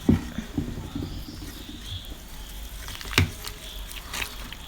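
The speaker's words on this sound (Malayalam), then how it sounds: "ഇനി നമുക്ക് കുറച്ച് വെള്ളത്തോടെ ഒഴിച്ച് ഇത് മിക്സ് ചെയ്തെടുക്കാം." Pancake batter of egg, salt, sugar and water is mixed in a bowl, giving wet squishing and slapping strokes in an uneven rhythm, close and moderately loud, with no talking.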